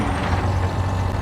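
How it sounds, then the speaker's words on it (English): A John Deere tractor engine in Farming Simulator 20 runs at a steady, low, throaty idle, close and unbroken with no talk. "I love the sound of this tractor"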